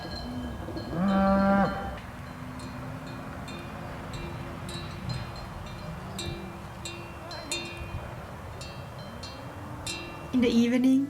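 A large herd of about fifty cows moos in the Jura mountains, with several loud, drawn-out calls near the start and end over steady outdoor background noise.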